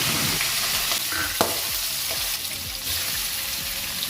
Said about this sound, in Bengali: তাতে একটু এলাচ, দারচিনি আর তেজপাতা দিয়ে হালকা নাড়াচড়া করে প্রনসগুলো ফ্রাই করতে দিয়ে দেবে।